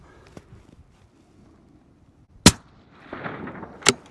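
Two sharp, loud rifle shots from a 22 Creedmoor fired with 38-grain loads at about 3,100 feet per second, spaced about a second and a half apart, with a rumbling echo rolling out between them in an otherwise quiet setting.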